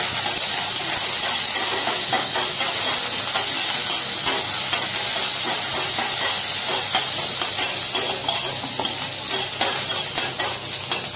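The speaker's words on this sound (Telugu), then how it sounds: "ఇది కరివేపాకు వేస్తున్నాను." Curry leaves drop into hot oil for the tempering of an onion-stuffed brinjal curry, and a loud, dense, continuous sizzle and hiss fills the whole stretch close up.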